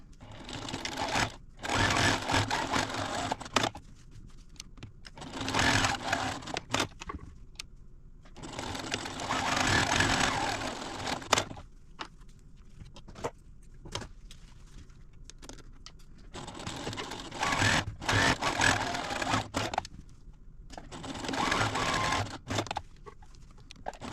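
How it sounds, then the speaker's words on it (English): A sewing machine stitches a fabric wine gift bag with a quarter-inch seam down each side and across the bottom, running in several loud bursts separated by short pauses, close up and with no talking. "I'm going to take them over to the machine, and I'm going to 1/4 inch stitch down each side and across the bottom"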